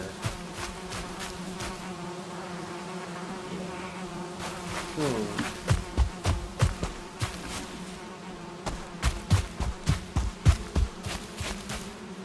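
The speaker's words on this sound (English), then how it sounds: "They made the bees a lot louder." Bees buzz loudly in a Viking survival game, a sustained droning hum close by with repeated pulsing swells as the insects fly near, no talk over it.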